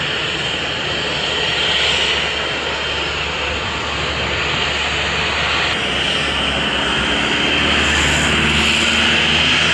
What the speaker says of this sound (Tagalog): Alipad na yung mga aeroplano.